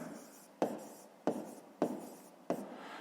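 A pen scratches across paper in four short strokes, each starting sharply and trailing off, quiet and near, while someone writes out a fifth-grade math exercise.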